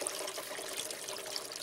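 Water pours steadily into an aquaponics bell siphon as it fills, a continuous bright trickling and splashing wash with no pauses, close and moderately loud.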